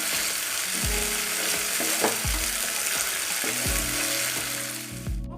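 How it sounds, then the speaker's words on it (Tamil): Chopped tomatoes sautéed for pasta sizzle loudly and steadily in a pan, while repeated knocks and scrapes of a stirring spoon sound close by. "தக்காளி பழம் நல்லா வதங்கியிருக்கு"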